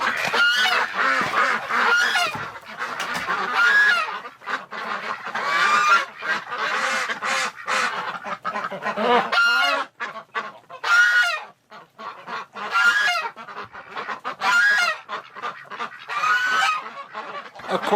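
A crowd of ducks honk and quack busily and continuously nearby in winter, calls overlapping in a noisy chorus.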